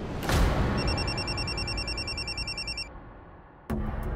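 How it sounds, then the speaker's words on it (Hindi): A telephone rings with a rapid electronic trill, repeating in short bursts for a couple of seconds, fairly close, with a thump before and after. "गौतम जी के बाबूजी का फोन है।"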